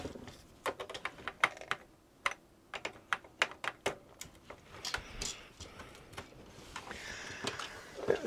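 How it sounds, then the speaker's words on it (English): Keys being pressed one by one on a restored Commodore Plus/4 home computer keyboard, sharp close clicks spaced irregularly over a quiet room background, growing busier and noisier toward the end. "Now let's go through the keyboard."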